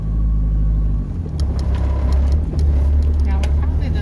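A car crawls off-road along a rough trail up Mt Adams, its engine a heavy, close low rumble with bumps and rattles, while people talk inside.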